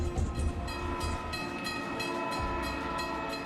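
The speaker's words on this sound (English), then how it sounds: "Emergency fuel gets passenger trains rolling again." A passenger train rolls past steadily and fairly loud, with a continuous rumble and a sustained horn tone running through it, during an oil shortage in Florida.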